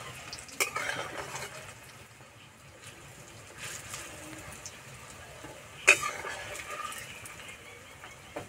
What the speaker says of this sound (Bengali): আস্তে আস্তে জাল দেবো আর ভাজবো